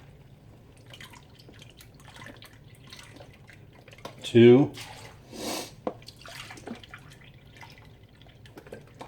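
Beef broth is poured into a pot for stew in short, splashy bursts, with a person talking and counting in between.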